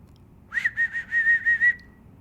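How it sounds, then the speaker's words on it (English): A person whistles a quick series of about seven short, clear notes at one steady pitch, close and alone against quiet background. "This is how I whistle."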